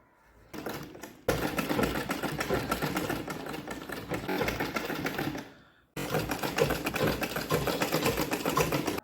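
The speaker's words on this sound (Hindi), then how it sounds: "यहाँ ऊपर से यहाँ किनारे से सिलाई करेंगे" Sewing machine stitching along the edge of a piped blouse with lining, a steady loud mechanical whirr close by, running continuously with one brief stop midway before starting again.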